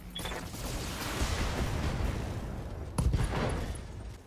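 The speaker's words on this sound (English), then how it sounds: "Firing a full salvo." BattleTech mech fires a full salvo of lasers and missiles, a dense rush of overlapping blasts and whooshes with a sharp impact burst around the three-second mark.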